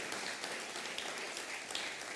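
A church congregation applauding during a sermon, a continuous wash of many hands clapping at moderate, even loudness with no voices over it.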